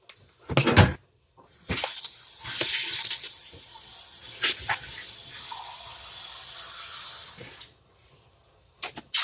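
Water pours and splashes into a pasta pot for several seconds, with clunks and knocks of handling before and after.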